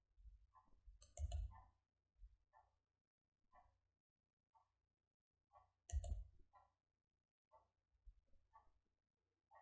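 Sharp computer mouse clicks, a handful of isolated taps spaced apart, with a double click at the start and another near the middle while working in PLC programming software, close and quiet with no talking.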